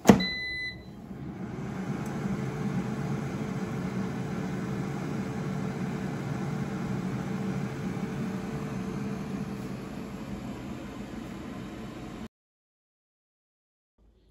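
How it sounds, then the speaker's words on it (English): A countertop air fryer runs while roasting cauliflower, giving off a steady, even fan whir with a soft hum. It holds at a constant level for about twelve seconds, then cuts off abruptly into silence. "put it back in the air fryer"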